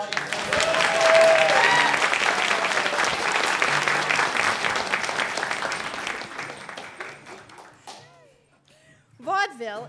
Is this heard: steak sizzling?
no